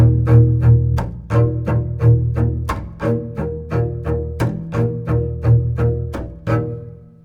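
Bowed double bass plays a slow rhythmic groove, several low notes broken up by sharp percussive chop strokes, close and clear with no talking.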